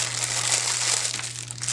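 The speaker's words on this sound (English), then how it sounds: "Sorry for the crinkling." Plastic packaging around an embellishment pack crinkles continuously for a brief moment, a soft, close rustle with a steady low hum underneath and no talking.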